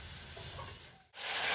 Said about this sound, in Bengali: মশলাটা ভালো করে কষিয়ে নিচ্ছিলাম